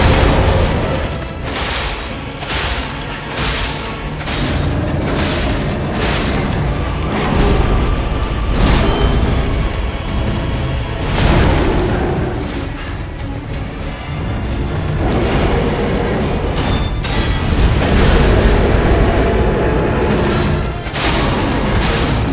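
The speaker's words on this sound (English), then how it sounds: "I'm gonna put a bomb under his face" Bomb blasts in the action game Lies of P, heavy booming explosions rolling through a loud, dense battle mix with no talk.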